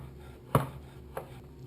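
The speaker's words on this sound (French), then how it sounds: "L'écorce d'orange confite, je la taille en très petits cubes." A knife dices candied orange peel into tiny cubes on a cutting board, with two crisp chops about half a second apart and a louder first strike.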